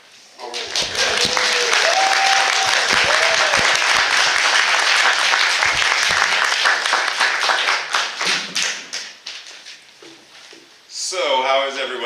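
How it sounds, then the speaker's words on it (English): An audience gives a reverend a warm welcome with sustained, dense clapping that fills several seconds and then thins out. A voice speaks close by as the applause fades. "some noise now with the Reverend Dr. Raymont Anderson, whom most of you know"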